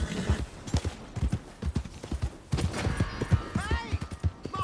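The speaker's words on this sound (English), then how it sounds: "Hey! My horse! Am I glad to see you?" Rhythmic clip-clop of horse hooves at a trot in Red Dead Redemption 2, fairly close, with a brief whinny near the end and a voice speaking over it.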